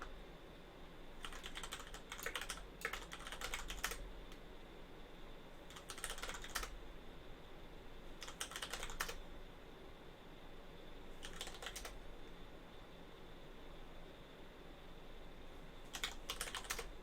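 Bursts of rapid key clatter from a computer keyboard come in short irregular spells separated by pauses, close and fairly quiet over a low background hiss.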